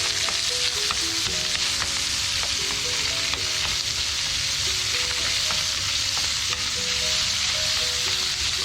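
Onion fries beside bacon in a pan, with a loud, steady, close sizzle throughout and occasional light stirring clicks, no talk.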